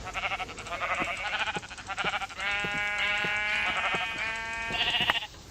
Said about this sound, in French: un mouton. Je vais pouvoir faire un lit.